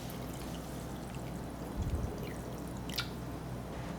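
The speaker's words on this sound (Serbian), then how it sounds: "U šerpu sipam vruću vodu do visine poklopca." Hot water is poured steadily into a deep pot holding glass jars, giving a continuous close liquid rush with a few drips and a low gurgle partway through.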